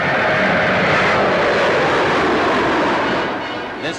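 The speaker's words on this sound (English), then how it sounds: "This 50-seater medium-range airliner with a cruising speed of 312 miles an hour is powered by 4 turbo-propeller engines." A Vickers Viscount 700, a 1950s medium-range airliner powered by four turboprop engines, flies past at the Farnborough air show with a loud, steady roar that thins slightly toward the end.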